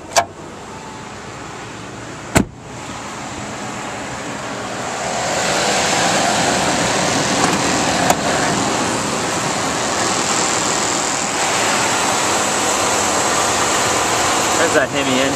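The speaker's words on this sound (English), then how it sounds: "There's that Hemi engine. Sounds perfect." A 2006 Dodge Ram 1500 4x4 pickup with a Hemi engine idles with a steady, even broadband rumble that grows a little fuller partway through, with a few sharp clicks at the start and near the end.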